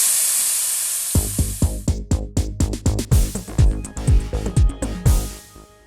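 An Expert classic steam vacuum cleaner releasing steam on its trigger: a loud, steady hiss at first, then a fast, regular pulsing thump of the pump under continuing hiss, close up and alone.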